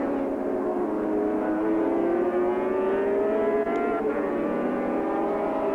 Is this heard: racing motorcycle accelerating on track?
yes